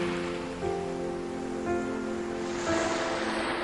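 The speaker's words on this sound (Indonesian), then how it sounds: "Suara laut," Soft, steady wash of ocean waves, with sustained gentle tones layered over the hiss.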